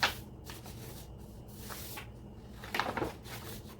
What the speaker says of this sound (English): folding the paper in half.